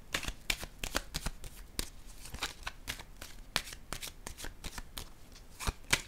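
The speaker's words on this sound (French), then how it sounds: "Je vais déposer une carte sur l'aide providentielle." Tarot cards handled and laid down: a quiet, close series of crisp papery snaps, slides and taps in irregular rhythm, with no speech over them.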